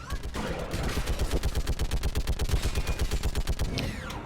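Mounted gun firing in Mass Effect, a rapid, steady stream of loud close shots in an even rhythm that runs for several seconds without pause.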